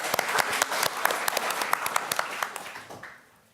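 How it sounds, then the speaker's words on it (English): An audience at a foster care summit gives a round of applause, a dense burst of many hands clapping that holds steady and then tapers off toward the end. "So let's give Sunny a round of applause."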